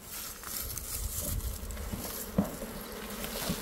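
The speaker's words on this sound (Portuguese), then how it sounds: "Um enxame que tá forte também, ó." Strong honeybee swarm buzzing inside an opened hive box at an apiary, a close, steady, dense hum with a few soft bumps and taps, no talking.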